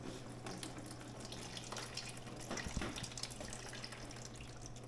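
Oil draining from a Jeep Wrangler YJ 2.5L engine during an engine swap, a steady liquid trickle and splash, with a low hum behind it and a few louder spatters near the middle.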